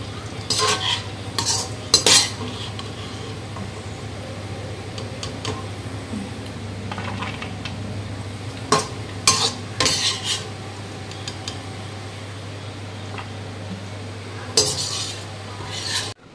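A utensil scoops fried cashews and raisins out of a hot pan with a quiet sizzle underneath. Scattered clinks and scrapes of metal on the pan come in short bursts over a steady low hum, and no one talks.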